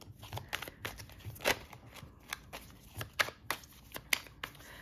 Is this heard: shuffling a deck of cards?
yes